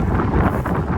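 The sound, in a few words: wind blowing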